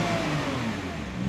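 A 2023 Nissan GT-R NISMO Special Edition engine revving up toward its soft limiter, a strong sustained mid-pitched roar that holds steady and swells slightly at the end, close and loud with no talk.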